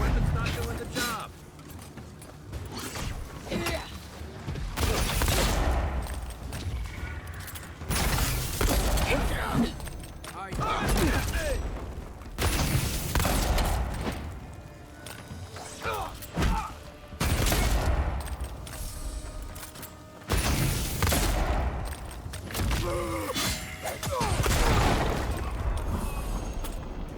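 Bursts of gunfire from the video game Avowed crack in rapid volleys among booms and clanking mechanisms, with voices talking between and over the shots.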